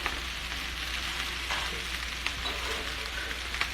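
Bacon and fish skin sizzle in a pan with a constant, bright, rain-like hiss and a few faint pops, quiet and unbroken by any voices.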